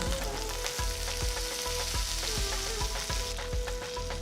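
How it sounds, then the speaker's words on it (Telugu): Mustard seeds, chopped ginger, green chillies and curry leaves frying in hot oil, giving a loud, dense, continuous sizzle with crackles and regular spoon-scraping strokes about every half second, close up with no talking. "తర్వాత ఇందులో తరిగిన ఒక అల్లం ముక్క చిన్నగా తరిగిన రెండు పచ్చిమిరపకాయలు కొన్ని కరివేపాకులు వేసి కలపాలి"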